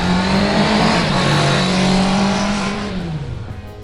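BMW's 2026 R12 G/S GS Trophy competition bike, with an air and oil-cooled 1,170 cc boxer twin, roars loud and close. A strong steady engine note slides down in pitch as it fades slightly at the end.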